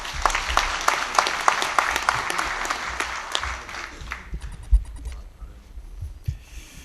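Hearty applause from delegates at a Korean labor union's national convention, dense clapping filling the hall for several seconds before thinning out into scattered claps near the end.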